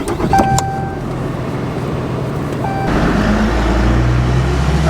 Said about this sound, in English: Gonna go for a test drive here.